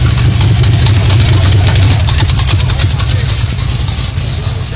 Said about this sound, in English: we were in a 68 Camaro LS3, just running